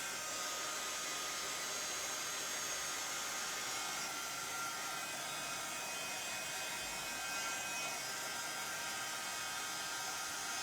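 A steady, close blowing whir of a heat tool drying Distress Sprays on a card, unbroken for the whole stretch, with no voices.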